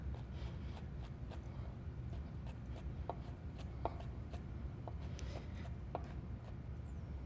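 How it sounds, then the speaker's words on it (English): Rough chopping with a knife on a cutting board, a steady run of sharp, close taps at an uneven pace over low background hum, with no talking. "good grip on your knife and just rough chop"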